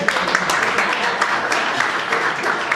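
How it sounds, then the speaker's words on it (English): A small group claps for a participant during a leadership training session, scattered close claps forming a modest round of applause with some talk mixed in. "you want to clap for him?"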